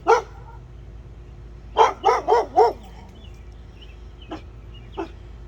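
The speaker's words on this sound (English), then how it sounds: "but now he gonna be barking." A dog barks once, then fires off a quick run of four barks, followed by a couple of fainter, shorter yips; close and clear with no talking.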